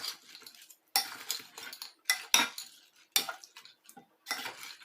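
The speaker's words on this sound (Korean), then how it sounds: "자, 그 다음에 이렇게 숟가락으로 뒤적 골고루 섞어줍니다." A spoon clinks and scrapes against a bowl while stirring and mixing mayonnaise into ingredients, several short bursts of metallic scraping separated by quiet gaps, close and fairly soft.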